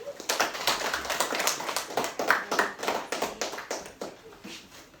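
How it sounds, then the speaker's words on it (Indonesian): A class of students claps hands during a lesson, steady overlapping claps at moderate loudness throughout. "Kasih tepuk tangan."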